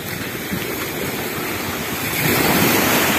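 Sea waves wash onto a beach at Lazarevskoye in October, a continuous broad surf roar with wind buffeting the microphone, growing louder toward the end.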